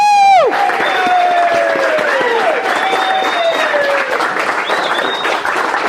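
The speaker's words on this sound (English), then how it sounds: "I want everyone to give you a big rousing applause for Chris." Loud, sustained audience applause and cheering for a guest coming on stage, a full crowd clapping continuously under bright whistle-like tones and whoops.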